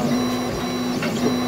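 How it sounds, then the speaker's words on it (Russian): A 3D printer at work in a technical university lab, restoring parts of monuments, gives off a loud, steady mechanical hum with a sustained motor tone that briefly dips and resumes. "3D-принтер в Самарском техническом университете трудится как пчелка."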